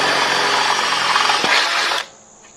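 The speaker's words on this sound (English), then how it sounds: "drill that hole" A power drill whirs steadily at high speed for about two seconds, then cuts off abruptly, leaving a faint high whine fading out.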